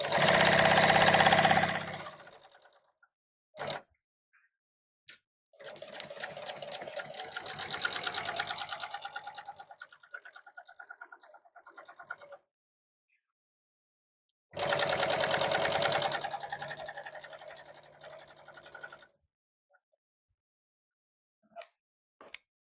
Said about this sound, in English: We'll just sew right on the white line.